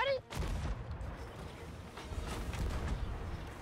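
Gunfire in a Sea of Thieves haunted shores battle, a dense run of overlapping shots and booms filling the clip at close range, with players' voices mixed in among the blasts.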